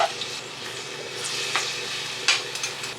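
Garlic and onion hit hot cooking oil in a wok for Filipino kare-kare oxtail stew, giving a steady close sizzle and frying hiss with a few louder crackling bursts, no talking.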